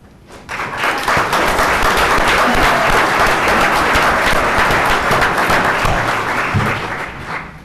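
A roomful of people at a town board meeting applauding during a veterans' tribute, a dense, loud burst of clapping that swells in quickly, holds steady for several seconds and then tapers off.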